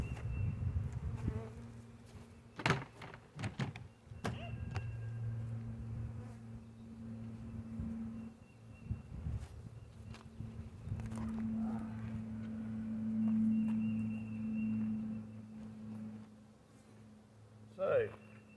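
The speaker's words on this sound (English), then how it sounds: "That's a box full of bees right there." A big honey bee swarm hums inside a box, a close steady buzz with a few sharp knocks and bumps, and a person talks quietly over it now and then.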